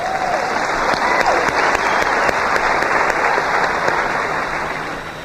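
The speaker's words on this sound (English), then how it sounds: "Clap your hands and thank God for wax." A crowd at a public speaking event claps steadily and loudly throughout, in a dense, even wash of applause with no voices standing out.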